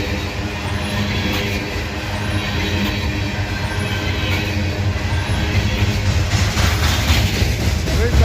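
Freight train cars rolling steadily past at close range in Abbeville, with continuous wheel rumble, rail noise and faint clicking throughout and no talk.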